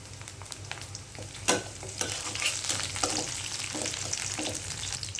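Onion, beaten egg and chili fry in a pan, sizzling steadily and close up, with a sharp clatter of stirring near the start and scraping strokes throughout, and no voices.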